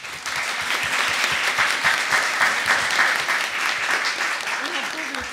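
Sustained, dense applause from an audience at the Euroscola Sisak 2015 student event in a hall, steady and loud throughout with no talking over it.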